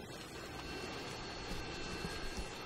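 A Harrier jet killstreak aircraft in Call of Duty Modern Warfare 2 gives a steady jet-engine roar with faint gunfire-like clatter, brief and at moderate distance, with no talking.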